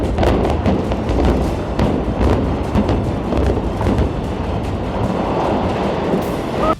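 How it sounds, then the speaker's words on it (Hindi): Storage silo tanks come down in an explosive demolition, a dense continuous rumble of collapsing structures with repeated thuds throughout, loud and sustained. "पहले धमाके से सबसे पहले छोटी टंकी को गिराया गया और उसके बाद एक एक करके चारों टंकियां गिरा दी गई"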